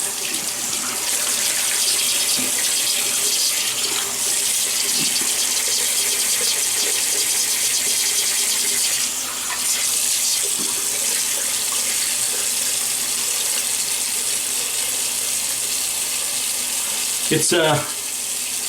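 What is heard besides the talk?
tap water running while wetting face before shaving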